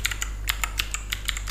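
Rapid, irregular keystrokes on a computer keyboard, with clicks falling every few tenths of a second over a steady low hum, close and fairly quiet, with no talking.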